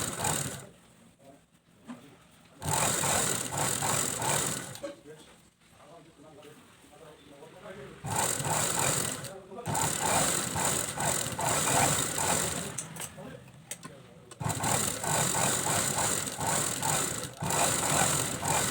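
A sewing machine stitches trousers, its motor whirring in several long, loud runs with short quieter gaps between the seams.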